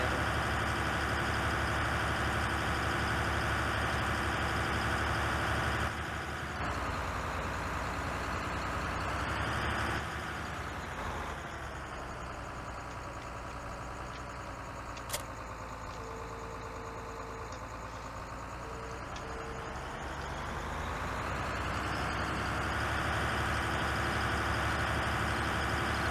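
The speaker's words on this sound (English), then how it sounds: "Ursus tractor" Ursus tractor engine in a farming video game, a steady mid-pitched idling drone that holds evenly throughout with a slight dip in level midway, no talk over it.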